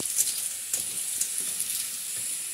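Clams stir-fried in a pan in a Malvani village kitchen, a steady close sizzle broken by a few scraping stirs, with no voices.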